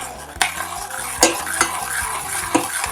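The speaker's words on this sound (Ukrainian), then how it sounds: "Добре перемішуємо, щоб не було грудочок." A utensil stirs and scrapes cocoa mixture in a bowl with a few sharp clinks against the side, steady mixing close up.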